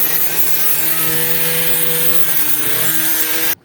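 A power brush scrubs grime off an Ozito hedge trimmer. It makes a continuous close, rough whirring and scraping hum that holds steady for a few seconds, then cuts off abruptly.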